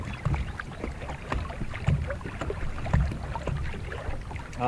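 Paddle strokes from a narrow Feelfree Flash pedal kayak on open water, a steady rhythm of soft splashes and dips under light wind noise, close and continuous, with no voices.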